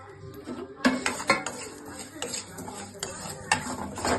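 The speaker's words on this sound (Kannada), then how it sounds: "ಈಗ ಕರಿ ಎಳ್ಳು ಹಾಕ್ತೇನೆ ನೋಡ್ರಿ" A metal spoon scrapes and clinks against a pan as black sesame seeds dry-roast for Nag Panchami laddus, with irregular close stirring knocks and a faint rustle of seeds between them.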